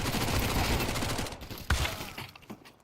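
Gunfire during a competitive Counter-Strike match: a rapid, close burst of shots, one sharp crack, then the firing tapers off and fades.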